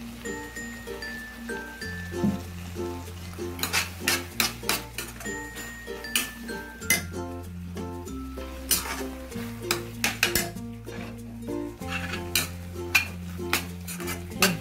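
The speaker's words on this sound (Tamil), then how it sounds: "தக்காளி ஃபுல்லாக வதங்கணும்." Tomatoes sautéed and stirred in a pan for tomato rice, with a spoon clinking and scraping against the metal in irregular bursts beneath steady background music; no one speaks.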